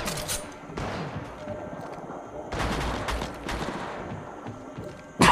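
Gunfire rattles in Apex Legends Mobile, loud bursts of rapid shots in several clusters with pauses between them and a sharp, close shot at the very end.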